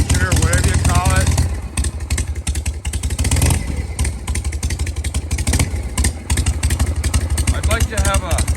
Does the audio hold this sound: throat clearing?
no